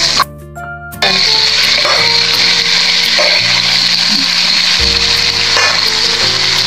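Bitter gourd (ampalaya) dropped into a hot pan with shrimp, setting off a sudden loud, sustained sizzle after a brief quieter moment, the hiss staying close and steady with a faint hum beneath and no talk.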